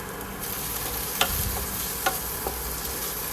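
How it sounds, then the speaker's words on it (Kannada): Bread sandwich masala frying in a pan, a soft continuous sizzle with a few light clicks of a spoon stirring, fairly quiet and with no talking. "ಇದನ್ನು ಹಾಕ್ಕೊಂಡ್ಬಿಟ್ಟು ಚೆನ್ನಾಗಿ ಫ್ರೈ ಮಾಡ್ಕೊಳ್ಳಿ."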